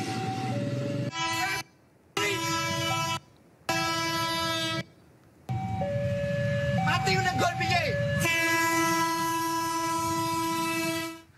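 A KRL commuter train rumbles past close by at a level crossing in Solo, Indonesia, its horn sounding in several long blasts separated by short gaps, with crossing bells clanging in between.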